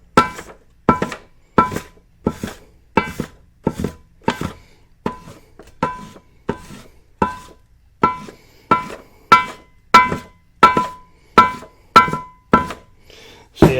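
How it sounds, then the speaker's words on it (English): A metal body dolly works along the gasket edges on an Edelbrock carburetor intake, making a regular series of sharp, hollow knocks, roughly one every half to three-quarters of a second, close and clear against near silence. "All we're going to do is kind of rub the edges here, and it'll tell us where"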